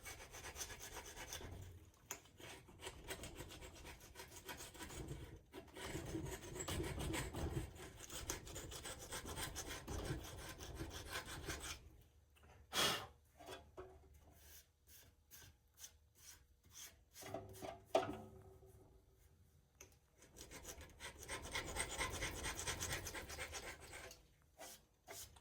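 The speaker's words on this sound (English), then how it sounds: "Clean the head gasket surface up best that we can." Scraping clean the head gasket surface of a Kohler K161 engine head: close, rough rasping strokes, first in long continuous runs and then in short rapid bursts with pauses between them.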